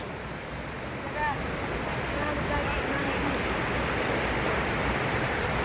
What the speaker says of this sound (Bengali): এই সেই বিখ্যাত আমি এখন ঝর্ণা